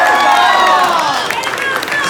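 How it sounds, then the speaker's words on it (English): A crowd cheers and applauds loudly and continuously at a bar mitzvah for a physician retiring after 50 years of practice. Many voices and whoops blend into a dense, steady roar. "So round of applause for him as well."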